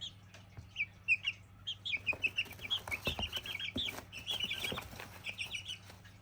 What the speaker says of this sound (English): this has been 12 minutes of chickens